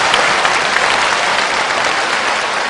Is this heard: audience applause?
yes